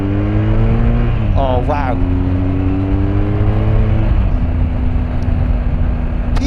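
BMW R1250R motorcycle in dynamic throttle mode pulling hard, engine tone climbing in rising sweeps with a gear change midway, loud and close, with a short exclamation from the rider.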